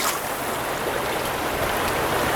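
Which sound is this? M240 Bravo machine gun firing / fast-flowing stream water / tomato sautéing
fast-flowing stream water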